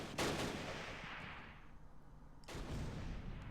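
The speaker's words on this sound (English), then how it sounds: "Now, even if the mortar shells aren't hitting near an enemy, they're causing them quite a bit of discomfort." Mortar rounds fire in the Close Combat: Last Stand Arnhem war game, giving two broad booming blasts with long decaying rumbles, the second arriving about two seconds after the first fades, with no talk over them.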